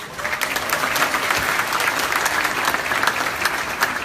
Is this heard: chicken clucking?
no